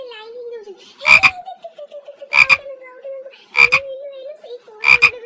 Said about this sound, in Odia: ମଣିଷ ଅପେକ୍ଷା ତ ଏ ଘରେ ବେଙ୍ଗ ସଂଖ୍ୟା ଅଧିକା